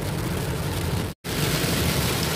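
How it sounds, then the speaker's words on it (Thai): Rain falls during a drive between Mukdahan and Yasothon provinces in Thailand, a dense steady hiss heard from inside a moving car, broken by one brief cut to silence midway. "พร้อมกับบรรยากาศสายฝน"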